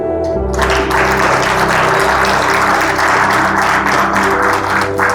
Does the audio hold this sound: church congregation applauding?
yes